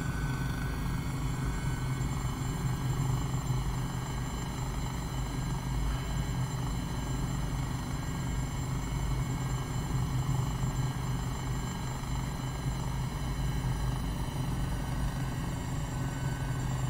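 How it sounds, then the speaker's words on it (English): A helicopter in Microsoft Flight Simulator produces a steady, continuous rotor and turbine drone with a high whine, holding an even level throughout with no talking. "It should not be that easy to get a helicopter to settle."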